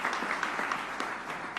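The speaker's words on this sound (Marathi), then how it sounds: "एकदा जोरदार टाळ्या झाल्या पाहिजेत" A crowd at an official event honouring Maharashtra Chief Minister Eknath Shinde breaks into sustained applause, a dense, continuous wash of clapping from many hands that holds steady throughout.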